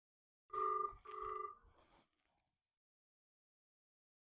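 A telephone rings twice in two short bursts, clear and fairly close, then goes quiet with no other sound.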